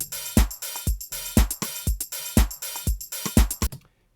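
A punchy layered snare and clap hit repeats in a steady rhythm, each crisp crack followed by a short decaying tail, alone and fairly loud.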